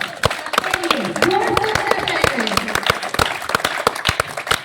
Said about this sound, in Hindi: सब कोई अपने लिए जोरदार ताली मारेगा